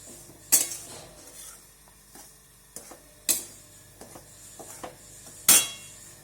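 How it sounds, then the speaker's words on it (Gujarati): Balshakti mix being dry-roasted in a pan, quiet rustling punctuated by three sharp metallic clanks of a spoon against the pan, spaced a few seconds apart. "હવે આ બાલશક્તિ મિશ્રણને આપણે આ રીતે થોડું શેકી લેશું"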